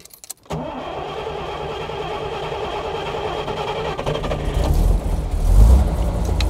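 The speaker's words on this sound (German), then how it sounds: "So, jetzt starten wir mal. Jetzt wollen wir mal hören, wie er losgeht." A 1953 Mercedes 300 S Coupé with its 3-litre, 150 hp three-carburettor engine is cranked and catches, then settles into a steady idle that swells with a few throttle blips, close and loud, with no talking.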